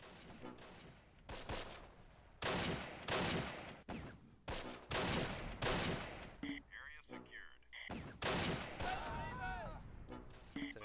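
Mortar rounds and gunfire in the Close Combat war video game, with bursts of loud blasts and rattling shots in irregular clusters, some sharp and near, alongside brief synthetic tones.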